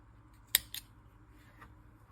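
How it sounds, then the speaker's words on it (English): A single crisp snip of scissors cutting black yarn for amigurumi pig nostrils, followed by a softer second cut, close and alone over quiet room tone. "grabbing the black yarn from the kit, you're going to snip off 2 longer pieces that we're going to sew on as nostrils"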